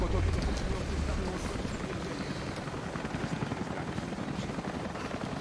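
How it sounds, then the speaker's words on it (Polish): Helicopter flying in the video game Rise of the Tomb Raider, a steady low rotor thrum with choppy pulsing texture, moderately quiet and continuous throughout with no talk. "To był śmigłowiec Konstantina."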